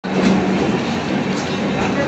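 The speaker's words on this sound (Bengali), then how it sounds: "তো বন্ধুরা ট্রেনটা চলে আসতেছে" A passenger train pulls into a station on the Raiganj to Kolkata route, a loud, steady rumble of rolling wheels and carriages close by, with people talking underneath.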